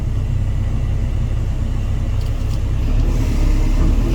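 A CAT 320GX excavator engine running at full power in its highest-speed mode, a loud, steady, low diesel rumble that holds throughout and rises slightly toward the end.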